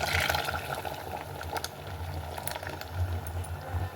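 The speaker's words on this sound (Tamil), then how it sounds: "உப்பு போட்டு நல்லா கொதி வந்துடுச்சு." Mutton curry simmering at a steady boil in a pot, a continuous bubbling and sizzling wash that stays fairly even throughout, with a low rumble underneath and no one speaking.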